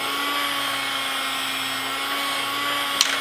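A MaxxHeat heat gun runs with a steady, close fan whine and hum at constant pitch, with a brief click near the end.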